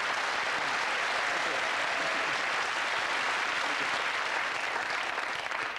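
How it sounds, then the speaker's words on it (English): Steady, dense studio audience applause on a 1990 TV game show greeting a returning celebrity guest, a continuous wash of many hands clapping at even loudness throughout. "a nice round of applause for Susie Quattro."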